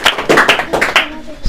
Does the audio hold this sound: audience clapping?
yes